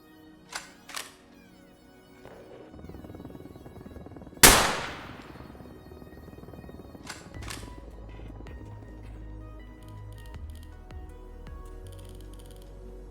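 One sharp, loud sniper rifle gunshot in the video game Arma Reforger cracks out and rings off, preceded by a few quieter clicks and followed by low rumbling and scattered faint noises.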